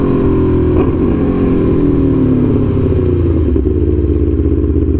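A 2017 Aprilia Tuono V4 1100 Factory motorcycle being ridden, its engine giving a loud, continuous close-up drone whose pitch slides gradually downward as the bike eases off, with no talking.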